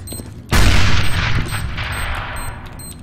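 Grenade explosion in a Counter-Strike match, a sudden loud blast followed by a rolling rumble and scattered gunfire that fades over a couple of seconds.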